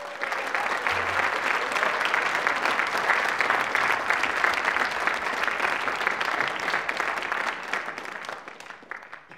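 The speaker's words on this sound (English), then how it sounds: "Please give them a huge round of applause." Sustained applause from a large audience at an international song contest, steady and full for several seconds before gradually tapering off at the end.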